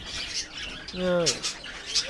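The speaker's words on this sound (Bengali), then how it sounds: "লাভবার্ড ককাটেল বদরি ফিঞ্চ পাখি সমস্ত পাখি পেয়ে যাবেন" A pet bird farm keeping lovebirds, cockatiels, budgerigars and finches, where one loud squawk rises and falls over a bed of background chirping and chatter, with someone talking throughout.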